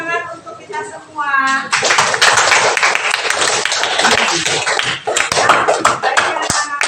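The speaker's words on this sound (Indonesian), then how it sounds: "Tepuk tangan untuk kita semua." Children in a classroom clap their hands together after a lesson, loud and close with fast, uneven claps, coming in after a brief stretch of a voice at the start.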